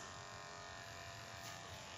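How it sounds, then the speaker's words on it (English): Electric hair clippers running during a pixie haircut, a steady faint high-pitched buzz that holds unbroken throughout, with no talking. "I am gonna just bring in my clippers"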